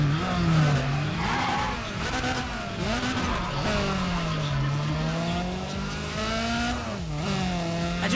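In the video game Need for Speed ProStreet, tires squeal in long, wavering screeches under a steady revving engine, continuous and loud as a Nissan Silvia slides through a drift.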